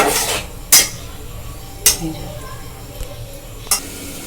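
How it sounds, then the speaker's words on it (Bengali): Chicken and spices stir-fried in a pan over a gas flame, with a metal spoon clanking sharply against the pan several times over a low steady sizzle, close by. "গ্যাসটা জেলে এবার এটাকে ভালো করে কষবো"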